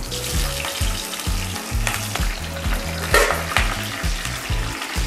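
Bay leaves and green chillies crackle in hot oil in a home kitchen, a steady bright sizzle with sharp spits and pops layered over rhythmic low knocks from the pan, close and fairly loud, no voices.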